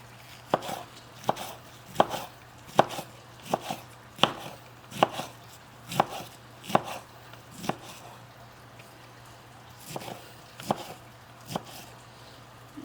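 A knife chops cabbage on a cutting board for homemade coleslaw in a steady rhythm of about fifteen crisp, close thuds, with brief pauses between strokes and a low background hum.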